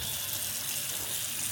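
Water runs steadily from a faucet in a five-star hotel bathroom in Xiamen, a close, even, continuous rush with no pauses.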